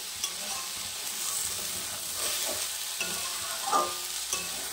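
Malabar spinach seeds are stirred and fried in a pan, giving a steady sizzle with intermittent scraping stir sounds, close and alone without speech.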